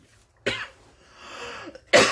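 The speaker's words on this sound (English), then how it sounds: "I had a really bad cough" Two sharp, harsh coughs from one person, a second and a half apart, close and alone in an otherwise quiet room.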